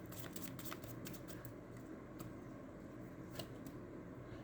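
Tarot cards being shuffled by hand, a steady papery riffling with soft clicks continuing for several seconds, fairly quiet and with no talking.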